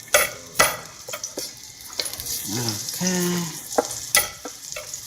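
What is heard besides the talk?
garlic sizzling in fresh oil in a pan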